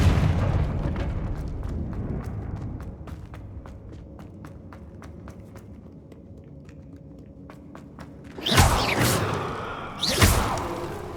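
Confringo blasting curse in Hogwarts Legacy, two loud fiery bursts near the end, a few seconds apart, following a stretch of quiet footsteps and ambient rumble.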